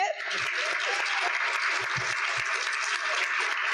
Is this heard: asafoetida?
no